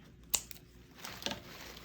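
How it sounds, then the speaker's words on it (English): A few quiet, sharp snips and rustles, like scissors cutting through crinkly garland material for an autumn wreath, close by with pauses between. "I'm going to slit this"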